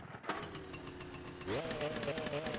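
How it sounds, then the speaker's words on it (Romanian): A moped engine catches after a brief crank and settles into a fast, rattling idle, then revs up to a higher, louder putter. Heard up close. "Hai să pornim motorul."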